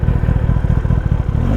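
A 2021 Kawasaki ZX10R motorcycle is ridden, its engine giving a loud, steady, close droning rumble with a fast pulsing beat and no talk.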